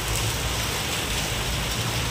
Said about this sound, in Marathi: तर आता हे अवकाळी पाऊस सुरू झाला आहे